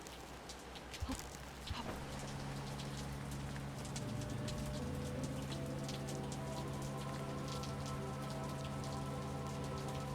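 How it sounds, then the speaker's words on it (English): Rain in the video game Labyrinth of the Demon King falls in a steady, dense patter, swelling slightly after a few seconds and continuing evenly at a moderate level with no talk. "So I like the details of the rain."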